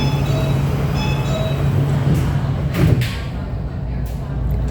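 Automatic sliding doors on a Shenzhen Metro Line 8 train shutting, a brief thud and rush partway through over a steady hum of the waiting train.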